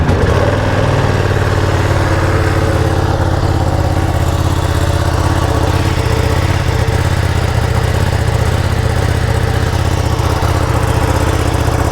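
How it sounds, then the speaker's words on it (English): A 2020 Ducati Panigale V2 motorcycle idles after a cold start, its engine a loud, steady, close rumble with a lumpy low-frequency throb that holds evenly throughout, with no talking. "First we're going to do the Ducati V2. I want you to hear what that sounds like."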